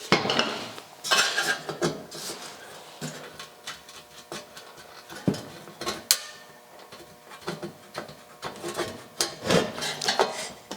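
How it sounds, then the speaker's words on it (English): Chrome emblem pried off a 1956 Chrysler, with irregular metallic scraping, clicks and rubbing taps spread over several seconds, close and fairly loud, no talking. "I need to pop off the emblem."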